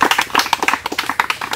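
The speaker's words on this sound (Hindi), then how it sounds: "ताली एक बार" Single person's hand claps, sharp and fairly close, repeating in a quick irregular patter during a constable chest measurement test.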